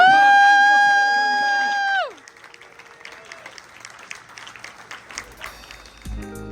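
Once a musical chord cuts off, a crowd at the Ponyville Ciderfest 2024 charity auction claps in a loose, moderately quiet spatter of applause.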